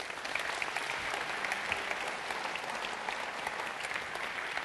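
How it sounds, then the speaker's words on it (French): A theatre audience at a live show applauds steadily, a dense, even wash of many hands clapping that holds for several seconds with no voices on top. "je pense qu'on peut applaudir Timothée."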